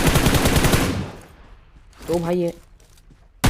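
M4 rifle fire in PUBG Mobile, a rapid close burst of automatic shots that cuts off abruptly, followed by a short voice and quieter game sounds.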